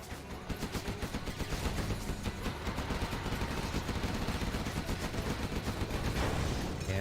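Gatling tank firing in C&C Generals Zero Hour, a sustained rapid rattle of gunfire, dense and steady throughout, loud and continuous with no pauses.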